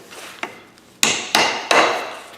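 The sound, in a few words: hammer striking wood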